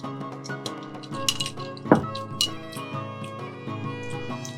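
Rum punch stirred in a glass at a home bar: a run of light, bright clinks and taps, with one sharper chime near the middle, close and moderately loud.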